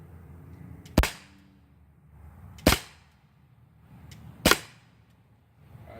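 An Umarex Glock 19 BB gun fires three sharp, dry cracks at evenly spaced intervals, each standing out clearly against a quiet background.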